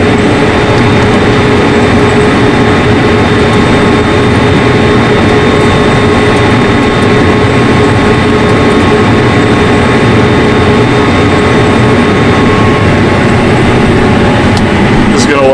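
A combine harvester runs steadily while blowing out dust, producing a loud, continuous engine drone and rumble that holds throughout without any break.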